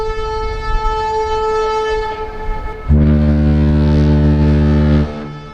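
A Royal Caribbean cruise ship on a transatlantic voyage blasts its deep horn in Akureyri, Iceland, a long loud low blare lasting about two seconds after a steady higher tonal drone.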